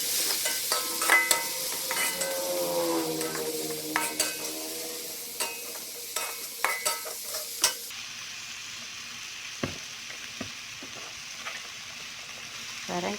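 Tomatoes sizzle in a pan for a stir-fried bean sprout dish, with a spatula scraping and clinking against the metal in irregular bursts, close and lively, then fading to a quieter sizzle.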